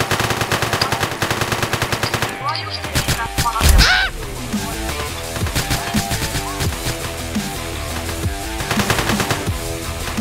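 Rapid automatic gunfire from a video game rattles in quick repeated bursts, loud and close, with a brief explosive blast and lingering echoes before the shooting resumes.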